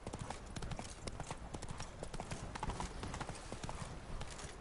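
Horse hooves gallop in The Witcher 3, a steady rapid clip-clop running through the whole stretch with game ambience and light background noise.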